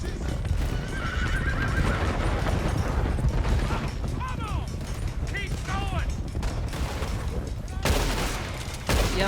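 A horse whinnies and neighs repeatedly while galloping hooves clip-clop in Red Dead Redemption 2, with bursts of gunfire and a voice shouting during a chase.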